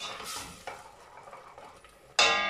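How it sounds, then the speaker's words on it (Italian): Risotto with fresh fava beans being stirred in a pan after more broth is poured in: a soft, continuous scraping and bubbling texture close by, ending in a sudden louder splash or sizzle burst. "Ci mettiamo un altro po' di liquido, un altro po' di brodo e si continua a girare sempre allo stesso modo"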